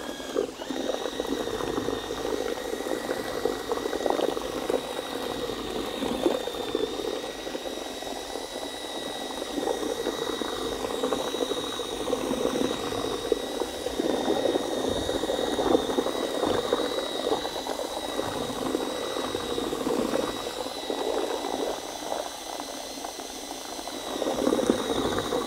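A whisk churns ARDEX floor levelling compound in a bucket, a continuous bubbly, slurping wash with a thin steady whine from the mixer motor, close and even throughout.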